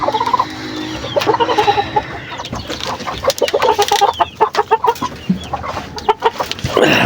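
Hens clucking close by in a farmyard, with repeated throaty clucks and short calls layered over one another, loud and busy throughout, while other birds sound in the background.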